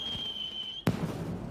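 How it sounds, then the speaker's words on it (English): Fireworks in the Harry Potter and the Order of the Phoenix film: a thin steady whistle, then a sharp bang followed by a crackling, rumbling burst, heard fairly faintly. "Fireworks! This is nice and loud."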